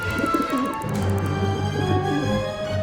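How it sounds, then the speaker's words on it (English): A pigeon coos in the video game Syberia The World Before, soft rounded throaty calls repeating over a steady ambient hum, near and moderately loud. "How am I supposed to get rid of that pigeon?"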